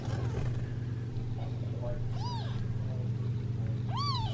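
Newborn Sphynx kittens, six and seven days old, resting on a heating pad, give thin, high rising mews, two distinct cries close by over a steady low hum, with a voice speaking softly nearby.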